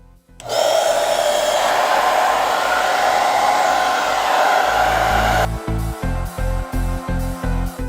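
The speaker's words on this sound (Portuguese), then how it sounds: "Então vou ligar meu secador e vamos começar o processo de aquecimento." A hair dryer switched on to heat a cup of liquid near electrical connectors, a loud steady whooshing roar that starts abruptly and then shifts into a pulsing rhythm near the end, with no speech.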